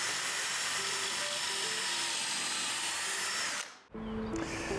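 A power drill boring holes into a wooden coffee table side panel, a loud steady whine that cuts out briefly near the end and then starts again, close by with no talk.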